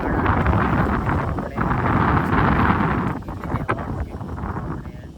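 Strong wind blows at a roadside dhaba, a loud, continuous rushing roar buffeting the microphone and easing slightly toward the end.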